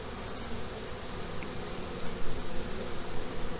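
Honey bees buzzing in a dense, steady hum during a hive inspection, close and continuous with no speech.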